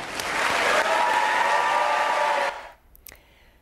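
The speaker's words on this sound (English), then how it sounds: "Let's give them a round of applause." Audience applause greets the introduction of NASA's 2025 astronaut candidate class, a dense, steady clapping that holds loud for about two and a half seconds before cutting off to near silence.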